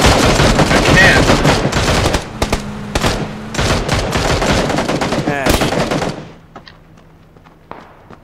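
Loud bursts of automatic gunfire from the battle royale game PUBG, rapid cracks and thuds for several seconds before trailing off into a few scattered, fainter shots near the end.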